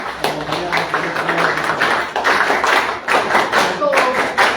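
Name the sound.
audience applause at a conference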